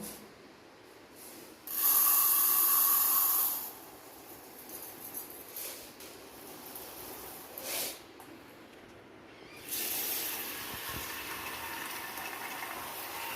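Water splashes as varagu rice and moong dal are rinsed in a kitchen for Pongal, with a louder gushing burst early on, a brief splash midway and steadier running water near the end; no talking.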